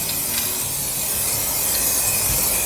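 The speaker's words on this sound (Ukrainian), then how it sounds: "Для того, щоб безпечно фарбувати, я розміщую у величеньку коробку і спокійно собі пшикаю." Paint sprayed from a spray can inside a large cardboard box, a steady close hiss that runs the whole time with a few soft rubbing touches.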